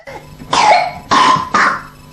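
A patient coughs three times in quick succession, each a loud, harsh burst followed by a pause, close by with no talking.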